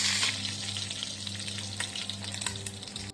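Pork sizzles in its own rendering fat in a non-stick pan, a close, even frying crackle with scattered pops and faint utensil clicks, ending abruptly after about three seconds.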